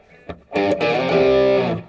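Distorted electric guitar riff, a short picked note followed by a loud sustained crunchy chord that rings for over a second, close and unaccompanied.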